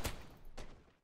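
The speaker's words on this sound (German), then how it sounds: "Meine P38 hat nur knapp daneben geschossen." Two sharp P38 pistol shots in the video game Rising Storm 2 Vietnam, about half a second apart, each a loud crack trailing into a short echoing decay.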